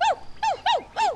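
Dog gives four quick, close barks in an even rhythm, each a short rising-and-falling yelp with a rough growling edge.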